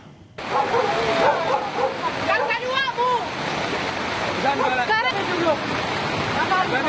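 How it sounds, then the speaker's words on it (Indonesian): A flash-flood torrent surges into a residential neighbourhood in Tuka district, Tapteng, making a loud, continuous, steady rushing roar throughout, with voices calling out over it. "Arus deras langsung menghantam permukiman warga di Kecamatan Tuka"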